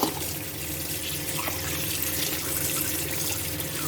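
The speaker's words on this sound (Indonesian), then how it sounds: "kita cuci bersih lagi ya, di air mengalir" Carp being rinsed under a running kitchen tap, a steady close splashing rush of water with no talking.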